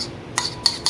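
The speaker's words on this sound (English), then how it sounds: "I have a spoon, which I'm going to mix up this butter" Spoon clinking against a bowl while butter is mixed for a spaghetti meal side, three quick metallic taps, close and moderately loud.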